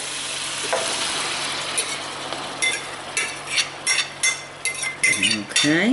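Chicken stir fry with vegetables being stirred and tossed in a pan, a steady frying sizzle beneath irregular scraping and clinking of a utensil against the pan, growing busier toward the end, with a brief spoken word.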